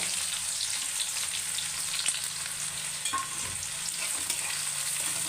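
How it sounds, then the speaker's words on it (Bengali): Onions frying in oil with cumin seeds for a prawn dish, a steady close crackling sizzle with occasional stirring clicks, constant and moderately loud, no speech. "তো পেঁয়াজটা একটু লাল লাল করে ভেজে নিব"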